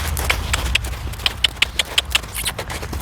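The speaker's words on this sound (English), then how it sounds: "I'm gonna ask him to canter." A horse cantering over ground with tarps laid out for groundwork, its hooves giving a run of sharp, evenly spaced clip-clop strikes at moderate distance, no talking over them.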